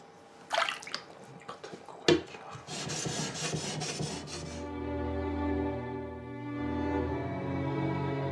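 A samurai sword blade being polished by hand, with scattered scraping strokes followed by a dense run of rapid rhythmic rubbing, then a sustained tonal ringing hum underneath, close and fairly quiet, no speech.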